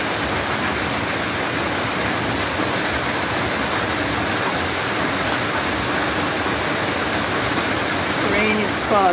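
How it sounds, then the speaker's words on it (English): Steady rain shower in Sunderland hisses continuously on surfaces outdoors, dense and fairly loud throughout with no clear pauses. "Rain is falling, guys."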